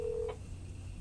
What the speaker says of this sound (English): I gotta call Chris back.